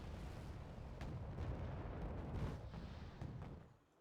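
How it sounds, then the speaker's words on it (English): Artillery barrages in the real-time strategy game Wargame: Red Dragon, a dense rumble of distant booms and bursts rolling continuously before fading out near the end. "Trying to direct my artillery all over the place"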